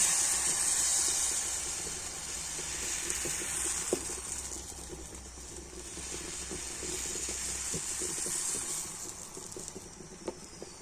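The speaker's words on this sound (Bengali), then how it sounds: "আর এবার আমি এক হাতা এই ব্যাটার নিয়ে ফ্রাই প্যানের মধ্যে দিয়ে দেবো" Paratha batter sizzling in a frying pan, a steady bright hiss with soft crackling pops running throughout, close and moderately loud, no voices.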